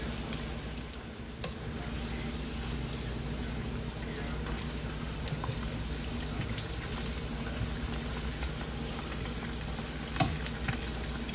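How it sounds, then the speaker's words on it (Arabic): Sambusak pastry rolls fry in hot oil over medium heat, giving a continuous close crackling sizzle with scattered pops throughout. "سخنا الزيت وحطيناها والنار وسط."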